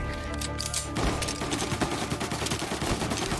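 A Tommy gun firing in Mafia: Definitive Edition, a rapid, continuous rattle of automatic shots that kicks in abruptly and keeps hammering at a steady fast rhythm, close and loud.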